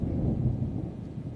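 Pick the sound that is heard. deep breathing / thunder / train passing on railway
thunder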